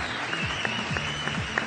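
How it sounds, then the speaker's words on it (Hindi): A studio audience on a talk show breaks into applause, a brief, steady wash of clapping at moderate level, with a voice briefly heard underneath. "तालियां बजा दें।"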